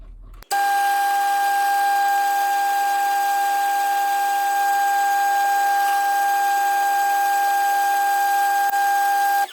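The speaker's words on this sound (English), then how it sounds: "put the drill bit in, and let's drill the hole through it." A loud, steady high-pitched drill whine runs continuously for several seconds as a drill bit bores through a cheap pen, starting abruptly after a brief quiet moment, with no talking over it.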